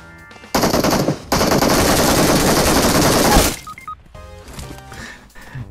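Rapid automatic gunfire from a battle royale game, loud sustained bursts of machine-gun shots with a short gap, then quieter game effects and faint tones afterward.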